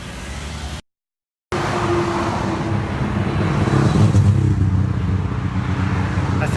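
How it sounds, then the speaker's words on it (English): Steady roadside traffic roars past on an urban street during a walk home from work, cars and motorcycles rumbling continuously after a brief silent gap, loud and close with no voices. "Man, it's hard to hear with all this traffic"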